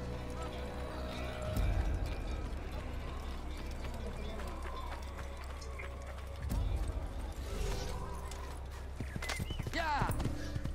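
Horse hooves from Assassin's Creed with Altaïr riding, a steady clip-clop running through game sound and music, with louder thuds around a few moments; someone talks over it in places.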